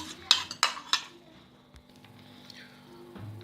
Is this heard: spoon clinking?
yes